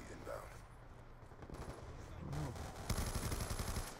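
Automatic gunfire in Call of Duty Black Ops 2, Hardpoint on Nuketown 2025, sounds as a faint rapid burst that builds toward the end over low game ambience.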